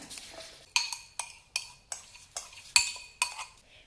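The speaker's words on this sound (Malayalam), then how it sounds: "ഇത് അരച്ചെടുക്കാനായിട്ട് മിക്സിയുടെ ജാറിലേക്ക് മാറ്റാം" A metal spoon clinks repeatedly against a jar, about eight quick bright taps in an even rhythm, as rice flour batter ingredients are scraped into a mixer grinder jar.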